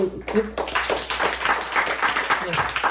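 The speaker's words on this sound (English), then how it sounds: "that deserves a big round of applause" Audience at a graduation concert breaking into sustained applause, steady dense clapping from many hands, with a brief voice at the very start.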